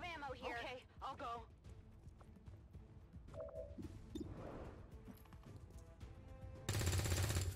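Gunfire in the XCOM 2 strategy video game: a burst of quiet clattering shots and impacts mixed with game effects, ending in a louder sustained blast of noise, all fairly faint.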